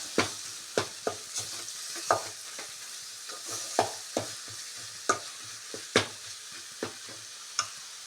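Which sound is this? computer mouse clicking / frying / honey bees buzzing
frying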